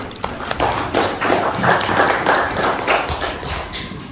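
An audience claps together at a teacher performance assessment session, a dense run of fast, uneven hand claps lasting several seconds, fairly loud and close, with no voices over it.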